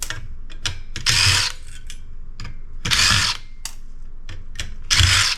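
Power drill unscrewing small Torx T8 screws from scrap electronics, three short loud whirring bursts separated by clicks and handling rattles, close up.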